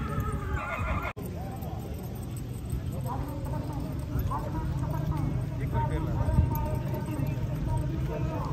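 A mare, numbered thirty-six and called Masha, neighs at a horse event in Pakistan, with hoof clops and a busy crowd murmuring and talking throughout, the neighing mixed into the steady crowd noise.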